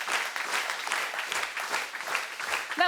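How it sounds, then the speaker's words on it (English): An audience at a waste-challenge grand finals ceremony claps together in a dense, continuous burst of applause, close and lively, with no pauses over the short stretch. "You can clap. All together, yes."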